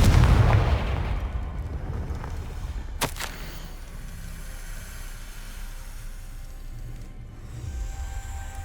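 Booming fire-spell blasts from Hogwarts Legacy, the Confringo spell: a heavy rumbling explosion at the start, a sharp crack about three seconds in, then a low lingering roar fading out with a second swell near the end.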